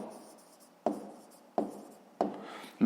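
A pen writes out a maths working, close and quiet, with soft scratching strokes in bursts separated by sharp taps roughly every three-quarters of a second.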